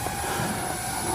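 A drone hovers in place outdoors, giving a steady, close, continuous engine-like drone with a high whine, with no talking.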